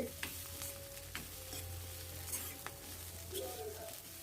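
Bitter gourd poriyal sautés in an iron pan with a low, steady sizzle and occasional spatula scrapes, quiet and close, with a faint hum underneath and no voices.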